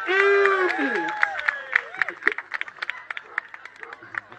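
Crowd cheering and scattered clapping at a super-hot chili eating contest, rising in sharp bursts after a voice fades out at the start and staying moderately loud, with shouts and claps mixed together.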